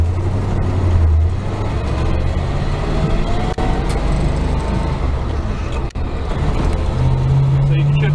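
A Travelette truck pulls toward a highway in second gear in Indiana, its engine a loud, steady low drone heard from inside the cab, with a brief low tone shift near the start and end.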